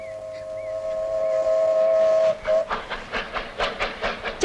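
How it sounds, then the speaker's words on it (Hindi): A steam train passes with a long, loud sustained whistle, then breaks into a rhythmic chuffing and clatter of wheels as it goes by close. "चल स्वामी चल, ट्रेन के साथ दौड़ लगाते हैं।"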